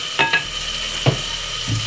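A large tablespoon of butter hits a hot frying pan and starts to sizzle softly, with a few light scrapes and taps of a utensil against the pan.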